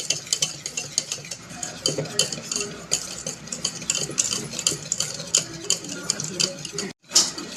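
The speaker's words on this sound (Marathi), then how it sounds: "आपण त्याला छान हलवून घेणार आहोत मिक्स करून घेणार आहोत" Dhokla batter with Eno fruit salt being stirred in a bowl, giving a quick, even run of close clinks and scrapes with a brief pause near the end.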